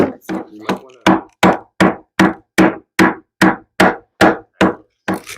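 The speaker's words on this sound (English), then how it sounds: "Okay, we got a hammer." Hammer blows striking a geode to crack it open, a dozen loud, close, evenly spaced hard knocks after a few irregular opening taps.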